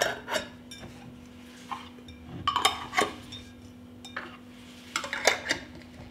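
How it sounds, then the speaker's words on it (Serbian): Clean lids put on and closed over glass jars, a series of close clinks, clicks and light metallic taps spread out in irregular bursts with quiet gaps between. "Tegle zatvaram čistim poklopcima."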